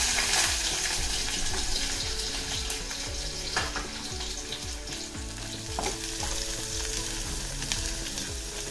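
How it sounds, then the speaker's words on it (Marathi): Chopped raw tomatoes dropped into hot oil for chutney, a loud close steady sizzle and crackle with occasional stirring scrapes and no talk. "जर तेल चांगलं तापलं त्याच्यात आपण ह्या चिरलेले टोमॅटो घालू"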